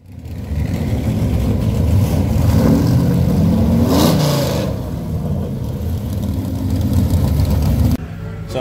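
Loud, close rumble of a Plymouth Superbird race car engine, a deep throaty idle with blips of revving that swell around the middle, sustained throughout and cut off briefly near the end.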